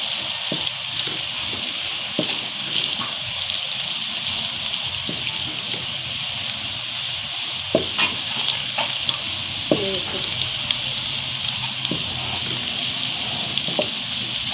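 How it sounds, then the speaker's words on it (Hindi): Onions fry toward light brown in an oiled pan with a steady, close sizzling hiss, broken by scattered sharp pops and spatters, with no voices. "ये देखिए, हमारा प्याज ब्राउन हो रहा है।"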